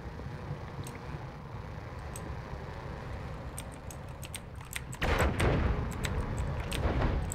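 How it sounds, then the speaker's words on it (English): Explosions in the game Noita crackle and pop in rapid bursts over a rumbling background, growing louder and denser partway through, with sharp repeated blasts near and continuous. "I don't like the proximity to the explosions that we've got going on here"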